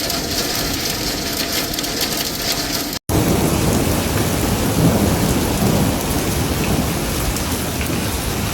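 A thunderstorm over Phoenix, Arizona brings heavy, steady rain with a deep rumble of thunder rolling beneath it, loud and continuous apart from a brief cut near the start.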